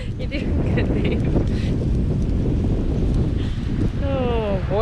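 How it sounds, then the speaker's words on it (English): Strong wind roars steadily over an open lake during a spring canoe trip in the Algonquin backcountry, buffeting the microphone throughout, with a brief voice or whistle-like tone near the end. "It's so windy."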